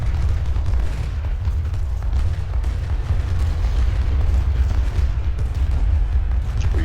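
Cannon artillery fire in the Ultimate General: Civil War battle game, a dense rumbling barrage of booms rolling on steadily at moderate volume, with no voices.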